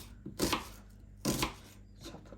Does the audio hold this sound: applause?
no